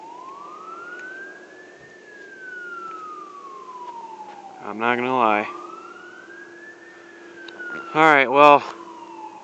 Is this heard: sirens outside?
yes